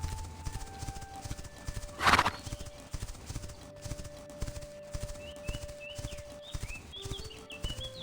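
Horse hooves clip-clopping at a steady walking rhythm in The Quinfall video game, close and moderately loud, with a sharp neigh and a few bird chirps over soft ambient music.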